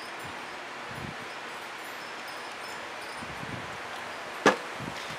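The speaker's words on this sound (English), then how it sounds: "And the wind is coming up." Wind blows steadily outdoors as a broad constant rush across the microphone, with faint rustling and one sharp brief knock near the end.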